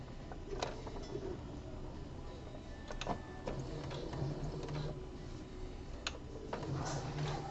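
A home sewing machine stitches the body panel of boxer briefs, running in a steady mechanical whir with ticking needle strokes and brief pauses, close and fairly quiet.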